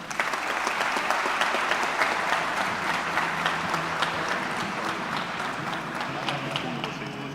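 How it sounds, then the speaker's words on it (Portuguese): Warm applause at an agribusiness awards event in Ribeirão Preto welcoming Ronaldo Caiado, a sustained, dense round of clapping from a large audience with faint crowd murmur, steady from start to finish. "recebam agora, com uma calorosa salva de palmas"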